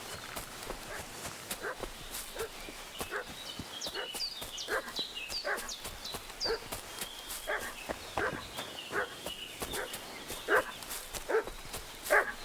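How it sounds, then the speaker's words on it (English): A dog in the video game Kingdom Come Deliverance 2 barking repeatedly in a steady rhythm at mid-distance, with hoofbeat-like clip-clop and footsteps mixed underneath. "What's that dog making such a fuss about?"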